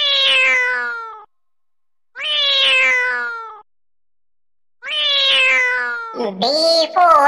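A domestic cat meows three times in a row, each call drawn out and clear, with even pauses between them, and a different brief voiced sound follows the third meow at the very end.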